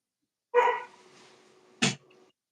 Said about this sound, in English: I just heard my dog barking.